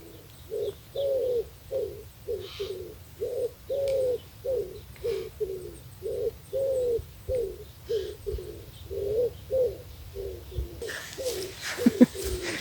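At sunrise, a bird repeats a low, rhythmic cooing call about a dozen times in steady succession, fairly close, with faint chirps behind and rustling near the end.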